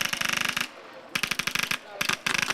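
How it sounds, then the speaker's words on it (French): Rapid bursts of machine gun fire at a war reenactment, three rattling volleys of evenly spaced sharp shots separated by brief pauses, loud and punchy. "c'est la mitraillette qu'on entend là-bas"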